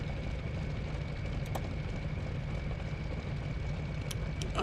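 A German Luftwaffe aircraft engine idles in a steady, loud, continuous drone with a constant tonal hum, with no pauses and no voices over it.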